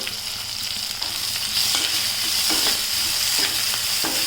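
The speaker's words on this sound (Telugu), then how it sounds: "కొంచెం ఉప్పు కొంచెం పసుపు వేసి బాగా రోస్ట్ చేసుకుందాం" Vegetables with salt and turmeric stir-fry in a hot pan for an egg rice dish, a loud steady sizzle with scraping spatula strokes and no talking.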